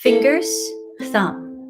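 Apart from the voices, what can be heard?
No distinct noise like a dog, phone or traffic.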